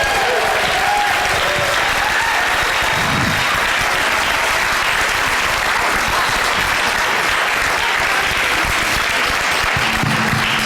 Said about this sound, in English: Round of applause for our wonderful cast.